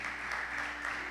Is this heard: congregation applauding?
yes